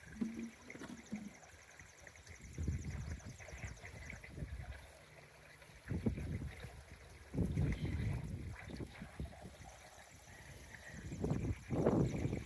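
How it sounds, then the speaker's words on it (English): A newly set up water pump runs with water flowing and trickling through it, a steady wash of noise broken by louder surging bursts, close to the microphone with no talking. "Okay, we got the pump going,"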